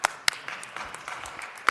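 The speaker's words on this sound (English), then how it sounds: "Let's give him a round of applause." Sparse applause from a small audience at a city council meeting, a few sharp, loud claps standing out over thinner scattered clapping for under two seconds.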